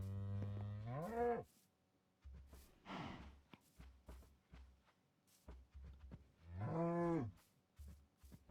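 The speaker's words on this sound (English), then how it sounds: "We got all the cows in a pen." Two long, loud Minecraft cow moos, one at the start and another later, with quieter snorts and shuffling noises between them.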